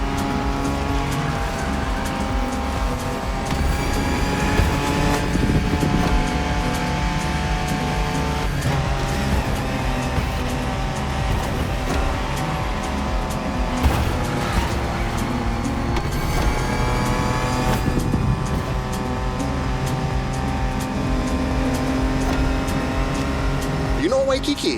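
Ford Bronco driving in The Crew Motorfest on Oahu, engine note rising and falling with gear shifts and revving, with occasional tire noise, steady and close throughout.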